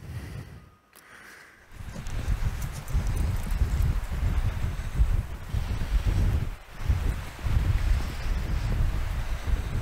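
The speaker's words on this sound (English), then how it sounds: "I don't know how well you can hear me over the wind." Strong wind gusts buffet the microphone outdoors on a snowy day, a loud rumbling roar that swells and dips in surges with no speech.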